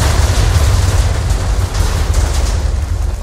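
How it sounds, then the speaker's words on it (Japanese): A huge explosion set off by a lightning technique in a Minecraft Jujutsu Kaisen mod makes a loud, sustained low rumbling roar with a crackling noisy hiss, steady for several seconds without any voices. "こんな感じで大爆発が起きるっていうね、そういう感じとなっております。"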